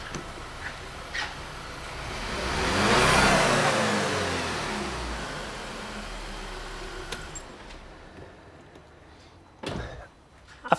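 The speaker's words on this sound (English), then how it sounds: "I'm going to increase the throttle." A car engine revving as the throttle is opened during a compression test, swelling from an idle to a loud rising roar and falling back, followed by a few sharp knocks.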